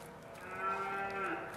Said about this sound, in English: in the background, I hear Susie and Rusty mooing